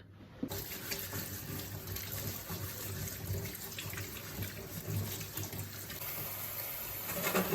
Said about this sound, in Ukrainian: Спочатку миємо картоплю і будемо її відварювати в мундирах.